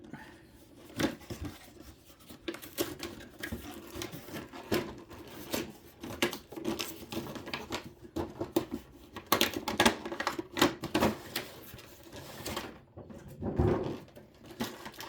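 Action figure box packaging for a McFarlane Toys DC Multiverse Bizarro and Batzarro two-pack being torn open, with crinkling, scraping plastic and cardboard handling sounds in irregular bursts, close and moderately loud, no talking.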